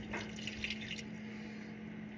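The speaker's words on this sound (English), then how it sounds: "So I'm gonna add just a little bit of water." A little water is poured into sourdough bread dough in a home kitchen: a faint, soft splash and trickle in the first second, then a quieter stretch over a steady low electrical hum.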